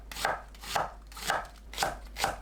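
A knife slices an onion on a cutting board at half-centimetre intervals, five crisp, evenly spaced chops in a steady rhythm, close and clear with no talking.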